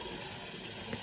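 Hot water runs steadily into a shaving bowl to soften shaving soap, a continuous close splashing pour lasting about a second with no talking.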